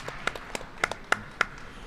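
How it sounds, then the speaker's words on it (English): Audience applause at the Unify Akron live event, heard as a few scattered claps at a medium distance, coming in an uneven rhythm over a low room murmur. "So let us all just give a round of applause for this effort and the team that put this together"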